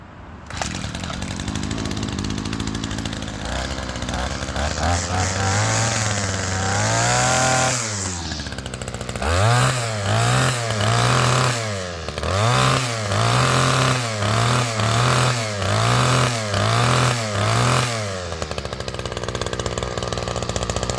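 A Mac 28cc trimmer engine fitted with a Ryobi carburetor and air cleaner buzzes loudly and close, revving up and down in repeated bursts after a rough start.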